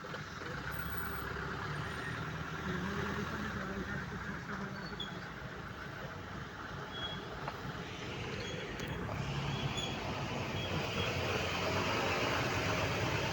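Cattle transport trucks idling at the Bihora cattle market in Golaghat, a steady low engine rumble with a hiss of air brakes, while people talk close by throughout.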